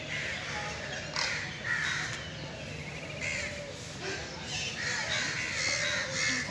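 Several crows at a zoo give scattered harsh caws, some overlapping, over a constant low background hum of an outdoor crowd, none very close.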